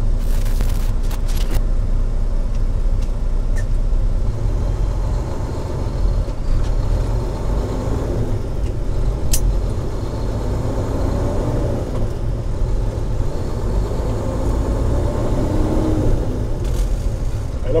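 A truck engine drones steadily at close range, with the revs rising and falling gently as gears are shifted, under a constant low rumble and no speech.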